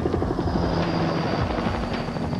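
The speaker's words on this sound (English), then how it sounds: "injured climber Jeremiah Moffitt is tethered to the chopper's hoist cable" A rescue helicopter hovers over a snowy slope on Mt. Hood while an injured climber hangs from its hoist cable. Its rotor roar is loud, close and steady throughout.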